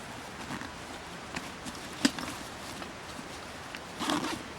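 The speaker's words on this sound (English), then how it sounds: "You can zip this shut." A bag being zipped shut at a pack station, a soft scratchy zipper run with a few faint rustles and a brighter burst near the end, quiet and close.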